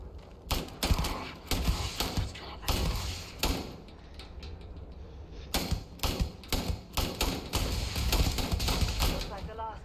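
Repeated bursts of gunfire in Starfield on maximum difficulty, sharp volleys and rapid-fire clusters spread across the stretch with short pauses between, loud and close, mixed with thuds and clattering impacts.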